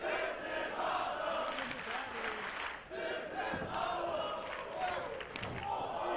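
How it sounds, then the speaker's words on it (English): Wrestling event crowd cheering during a light heavyweight triple-threat match, a steady roaring audience with swelling shouts, distant and continuous across the whole stretch. "you can hear what our great crowd thinks of it"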